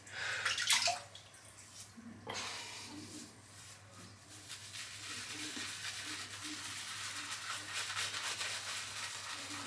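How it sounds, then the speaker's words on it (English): Water running from a tap while wetting the face before a shave, a quiet, steady splashing stream with a few louder splashes near the start. "And then let's just wet my face."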